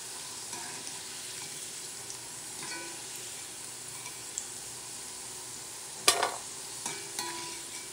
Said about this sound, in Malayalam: ബാക്കിയുള്ള ചേനയും ഫ്രൈ ചെയ്തെടുക്കാം.